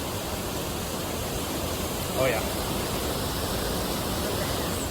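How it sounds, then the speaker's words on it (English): Soda Creek Falls in Cascadia Park, a waterfall in a small carved canyon, gives a steady, dense rushing roar that fills the whole stretch, with a brief spoken remark near the middle. "It's a short hike up to an amazing waterfall that has carved itself a small canyon"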